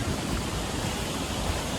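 A creek running high along a hiking trail in Petit Jean State Park, Arkansas, gives a steady, dense rush of flowing water, close and continuous, with no voices.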